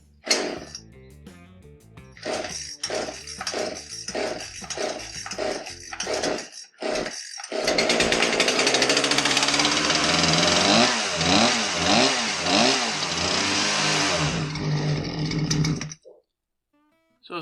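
A Poulan Pro PR5020 chainsaw, flooded and smoking heavily on an NGK spark plug, sputters through several rapid pulling bursts before catching and running loud and close at a rough, wavering rev, then cutting out.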